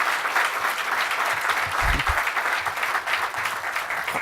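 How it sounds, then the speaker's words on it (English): Audience at a fraternity Man of Achievement banquet claps steadily and fairly loudly throughout, a dense wash of many hands with a brief low thump near the middle. "Let's give them a round of applause,"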